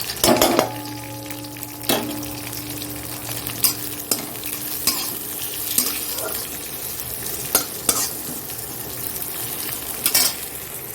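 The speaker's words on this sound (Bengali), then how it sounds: "এখানে তেজপাতাটা দেখো হয়ে গেছে আমাদের পেঁয়াজ দিয়ে দিলাম" Onions frying with a bay leaf in an oiled pan for a chicken curry, a continuous sizzle broken by scattered scrapes and taps of a spatula, close and fairly loud, without speech.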